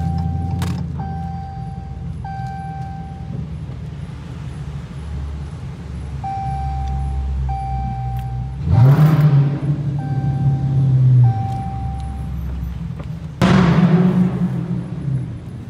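Dodge Challenger R/T 345 Hemi V8 in rush hour traffic, idling low, then two short loud revs blipped several seconds apart over the rumble and beeping of traffic, with no talking.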